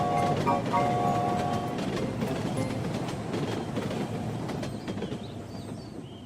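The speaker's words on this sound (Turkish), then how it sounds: "Bakın rayların üstünde bir tren gidiyor." A cartoon train runs along its rails with a steady rumbling roll and some faint clinking and squealing, fairly loud and continuous and slowly easing off, under background sound from the animated scene.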